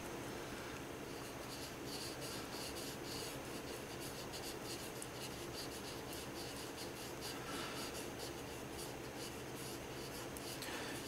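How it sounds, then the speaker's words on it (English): A graphite pencil scratches and rubs across paper while drawing clouds, a close, continuous fine scribbling with quick rhythmic strokes and no voices. "you can also add some more graphite with your pencil if you need to"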